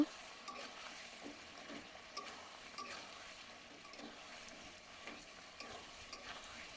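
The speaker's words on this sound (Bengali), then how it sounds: "টমেটো দিয়ে একটু নাড়াচাড়া করে দেব।" Chopped tomatoes being stirred as they fry in a pan for a tilapia and new potato curry, a faint, steady sizzle with soft, regular scraping from the spoon.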